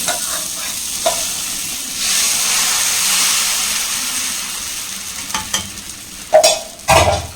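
Dosa batter frying on a hot pan, a steady close sizzle with light scraping and stirring clatter near the end, no voices.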